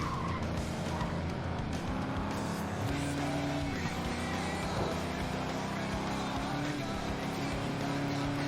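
Race car engines roar continuously in the demolition racing game FlatOut 2, a dense, loud drone of several revving motors with tire squeal and skidding throughout, no talk.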